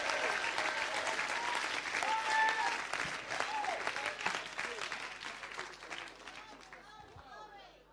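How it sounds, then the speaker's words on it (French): A church congregation at a night crusade in Portsmouth claps hands for Jesus, a loud sustained wave of applause with crowd noise and some voices that gradually thins and fades toward the end. "nous applaudissons Jésus de tout cœur"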